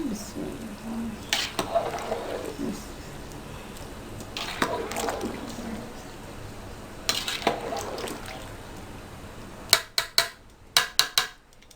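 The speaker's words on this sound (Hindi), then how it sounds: "अब आपने सारे चावल मिक्स करने हैं अच्छी तरह से।" A spoon scrapes and swishes through rice grains in a pot of tikka masala pulao in slow, repeated strokes, followed by a few sharp knocks of metal at the end.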